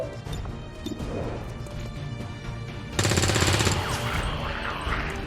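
Gunfire in the video game XCOM 2: scattered shots over a busy combat soundscape, then at the three-second mark a loud, sustained rapid burst of automatic fire that rattles on close and heavy to the end.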